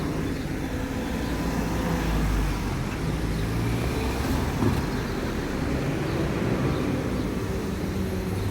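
Steady stream of road traffic passing a park, a continuous loud roar of cars and other vehicles close by with no clear gaps, alone without talk.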